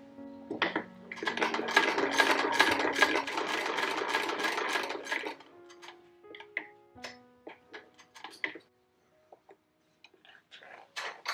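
An 1888 Singer 12 sewing machine runs with a rapid, dense mechanical ticking for several seconds, then slows to scattered individual clicks and taps with quiet gaps, heard close and fairly soft.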